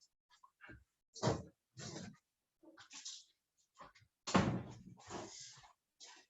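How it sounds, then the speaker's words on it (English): A door swinging and shutting in a room, with several thuds and bumps scattered across the stretch, the loudest knock near the middle, fairly close and dry. "Just close the door."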